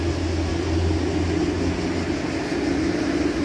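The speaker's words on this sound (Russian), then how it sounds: "Слышите, поезд поехал." A train departs near a bridge, heard as a steady, loud low rumble with continuous mechanical droning that holds evenly throughout without breaks.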